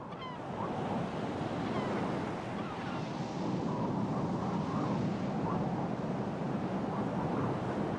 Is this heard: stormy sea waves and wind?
yes